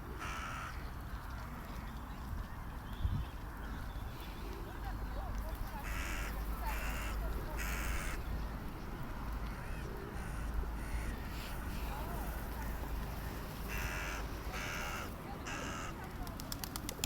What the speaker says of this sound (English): Have a look. Seagulls.